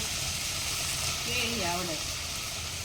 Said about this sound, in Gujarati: આ બાજુ જો મૂળાની ભાજીના વઘાર લેશે